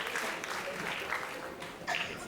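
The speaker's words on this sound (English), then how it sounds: "A big round of applause to Ministry of Education." An audience at a school event claps in a steady wash of applause, moderately loud and continuous, with a few louder bursts and faint voices mixed in.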